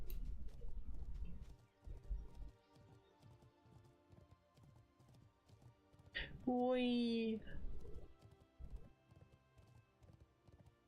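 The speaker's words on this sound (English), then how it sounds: "Horse hoof" Horse hooves clip-clop in the video game Ascension, a steady rhythmic clopping under quiet game ambience, joined briefly by a loud, pitched call in the middle while a voice speaks.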